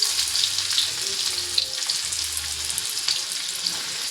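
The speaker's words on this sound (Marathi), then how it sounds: "आणि जिरे टाकल्यानंतर तुम्हाला टाकायचं ह्याच्यामध्ये जो आपण चॉप केलेला कांदा." Chopped onion sizzles and fries in hot oil with cumin seeds while a vegetable dish is cooked, making a constant close crackle with faint stirring and no talking.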